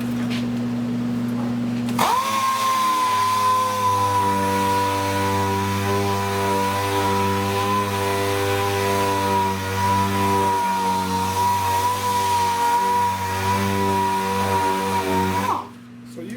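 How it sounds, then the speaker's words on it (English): A power sander with an 80 grit disc on a hook-it pad works over car bodywork, starting abruptly and running as a steady, loud, continuous whine with a fixed pitch before cutting off near the end. "I'm gonna go over this whole thing with 80 grit here on the hook it."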